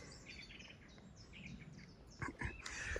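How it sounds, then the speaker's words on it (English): Birds chirp and sing outdoors in a scenic countryside spot, with short high calls scattered over a steady ambient background and a louder burst of calls toward the end. "Listen to the birds for a minute, why not?"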